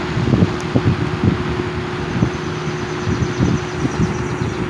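A 1970s Lakewood 20-inch box fan runs with a steady broadband airy whoosh and a low motor hum, with faint irregular thumps from air buffeting the microphone throughout.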